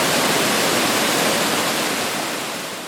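A loud, steady rush of falling water from a waterfall up to 80 feet high near Juayua, El Salvador, roars continuously, a dense broadband hiss that fades slightly toward the end.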